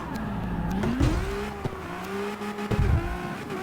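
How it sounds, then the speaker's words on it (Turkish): A car drifting in the street-racing game CarX Street, its engine note rising and falling continuously with brief bursts of tire noise, loud and steady throughout with no talking. "Böyle böyle drift yapabilir miyiz?"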